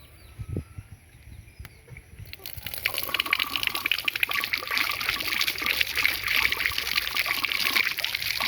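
Water from a hydraulic ram pump starts with a few drips and knocks, then swells into a steady close gushing flow that runs continuously to the end.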